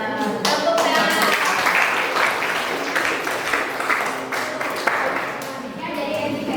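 Classroom applause at a junior high school, a group of students clapping together in a brisk, uneven patter close by, with some voices mixed in, fading gradually toward the end.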